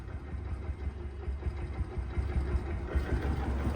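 A 2023 Bajaj Platina 100cc motorcycle in showroom condition idles quietly with a steady low throb and faint mechanical patter, close by, with no talk over it.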